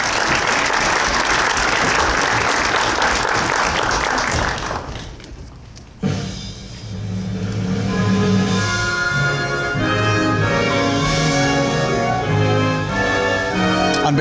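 Loud audience applause for singers returning to the stage at a veterans recognition ceremony, a dense roar of clapping that dips briefly, then resumes under a swell of music.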